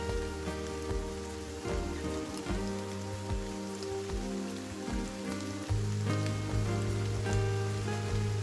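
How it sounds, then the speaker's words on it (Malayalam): Steady rain pours down on a surface, a dense continuous patter with scattered louder drips and splashes throughout, close and fairly loud with no voices. "അപ്പോൾ കാണ്ടടാ നോക്കുന്നു മഴ പെയ്യുന്നു"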